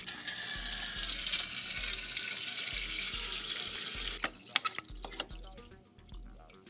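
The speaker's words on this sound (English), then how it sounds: "Next, I drained the coolant and removed the old water pump." Coolant draining out of an Acura Legend engine during a water pump replacement, a steady, trickling pour of liquid running for about four seconds, then thinning into a few scattered drips.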